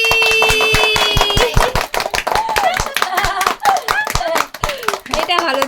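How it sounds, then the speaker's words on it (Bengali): Loud, fast clapping from several people at a small family birthday celebration, sharp close claps in a rapid rhythm with voices and children talking and calling out over them. "জোরে হাততালি"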